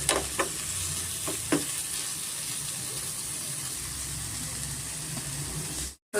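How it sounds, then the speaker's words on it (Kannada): Tomatoes frying over a medium flame for a spinach and chickpea curry, a steady broadband sizzle that runs unbroken with a few soft spoon scrapes near the start, then cuts off abruptly at the end. "ಟೊಮೆಟೊ ಸ್ವಲ್ಪ ಚೆನ್ನಾಗಿ ಫ್ರೈ ಆಗಬೇಕು ಸ್ವಲ್ಪ ಸಾಫ್ಟ್ ಆಗಬೇಕು ಮೀಡಿಯಮ್ ಫ್ಲೇಮಲ್ಲಿ ಸ್ವಲ್ಪ ನಾವು ಫ್ರೈ ಮಾಡ್ಕೊಳ್ಳೋಣ"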